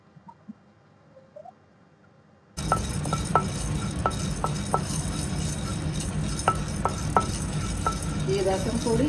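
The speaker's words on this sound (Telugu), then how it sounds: "వీటన్నిటిని డ్రై రోస్ట్ చేసుకోవాలండి. ఫస్ట్ కందిపప్పు వేసుకున్నామండి." Toor dal being dry roasted in a pan for rasam powder: after a quiet start, a continuous close rustle and scrape of lentils being stirred, with sharp clicks as grains knock against the metal.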